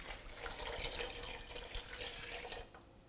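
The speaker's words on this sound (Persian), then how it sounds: "نمک، فلفل و آبشو میریزم." Water splashes steadily into a cooking pot of Persian fesenjan stew already seasoned with salt and pepper, a close, continuous pouring hiss that tapers off at the end.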